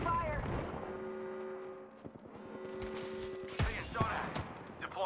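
Rapid gunfire in the battle royale shooter Apex Legends, with bursts of sharp shots and clanking mechanical clatter over sustained tonal in-game sounds, partly beneath voices.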